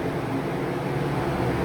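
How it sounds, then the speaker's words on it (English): A loud electric fan runs inside the cab of the Big Brutus mining shovel, giving a steady, close, broadband whooshing hum with a low drone underneath and no talk. "Sorry for the fan, it's going to be a little loud."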